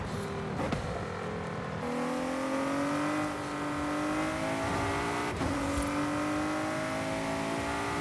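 A car in Forza Horizon 5 with a loud engine revving up through the gears. The pitch climbs in steady sweeps, each shift cut by a sharp drop, and the engine sounds close and alone.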